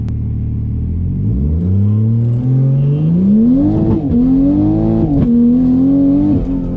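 Big-turbo 2020 Toyota Supra accelerating hard, its engine note climbing steadily after a slight bog at launch, loud and close with a continuous rising drone and brief dips as it pulls.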